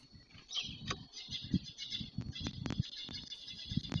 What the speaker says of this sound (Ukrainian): Чути пташиний поклик.